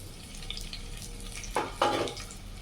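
Onions fry in hot oil with a soft sizzle, close by and fairly quiet, with two short bursts of stirring or scraping near the end.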